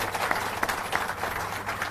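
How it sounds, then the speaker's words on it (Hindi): Crowd at a political gathering of auto and taxi drivers in Uttarakhand clapping to welcome Colonel Kothiyal, a steady patter of many hands, fairly distant and moderate in level, lasting under two seconds. "मैं चाहता हूं कर्नल साहब के लिए भी एक बार जोरदार तालियों से स्वागत करेंगे।"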